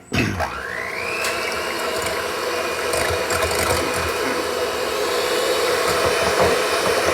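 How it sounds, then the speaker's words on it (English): Electric beaters whir steadily and loud through cake batter as about two-thirds of a cup of sugar is worked in, a continuous motor drone with a rising pitch at the start and no talking. "So we'll just use the electric beaters."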